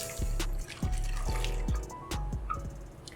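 EM-1 microbial liquid is poured into a container, heard as a series of close drips and splashes with brief gaps between them, quiet and without talk.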